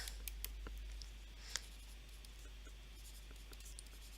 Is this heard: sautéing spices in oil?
no